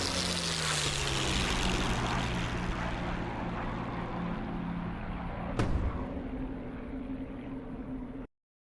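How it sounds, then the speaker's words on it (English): A P-51 Mustang's piston engine and propeller in the DCS flight simulator drone steadily and loudly throughout, with a brief sharp burst near the end before the sound cuts out abruptly. "so that's Ghetto in the P51"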